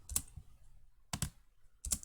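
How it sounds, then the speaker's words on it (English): A computer keyboard spacebar is pressed three times, each press a sharp, close click spaced about a second apart in a quiet room. "pressing the spacebar"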